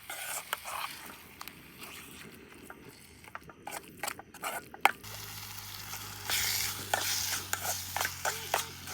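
Refa, small shrimp, is stirred in a pan during outdoor cooking. A spoon scrapes and clacks irregularly, and a soft sizzle grows louder partway through over quiet ambient noise.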